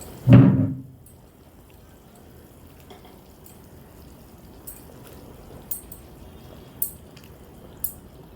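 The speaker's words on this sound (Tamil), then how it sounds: "இந்த டைமில் மீனை சேர்த்துக்கலாம்." Pieces of vilangu eel fish dropped into a thick, reduced village-style curry simmering in a pot, one heavy splash up front, then quiet bubbling with a few faint clinks.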